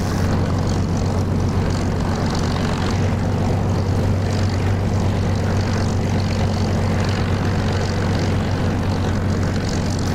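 Steady propeller aircraft engine idling at about 1400 RPM in the DCS flight simulator, a continuous low drone with a strong hum that stays even and loud for the whole stretch, with no talk.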